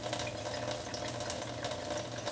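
Acidic water runs steadily from a Tyent 9000T water ioniser, a soft continuous stream with a low electrical hum beneath it, no voices.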